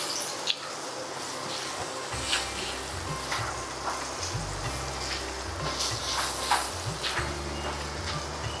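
Onion dropped into hot oil with curry leaves, a soft continuous sizzle with scattered crackles and faint scraping, fairly quiet and close, with a low hum underneath.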